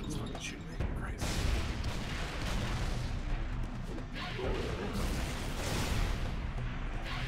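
Heavy automatic gunfire and crashing impacts in the video game Halo ODST, loud and sustained across the whole stretch, with occasional voice mixed underneath.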